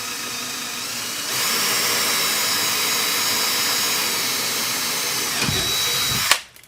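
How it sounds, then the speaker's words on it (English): An electric drill whines steadily at high speed for several seconds while drilling a hole to install half doors on a Polaris Ranger, then winds down as the bit breaks through with a final clunk. "not have this drill walk on me"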